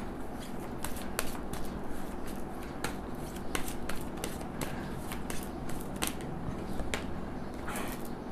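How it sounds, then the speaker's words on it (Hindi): Tarot cards are shuffled steadily close by, a continuous riffling and rustling with frequent sharper snaps of card edges, and nobody speaks. "अच्छे से शफल"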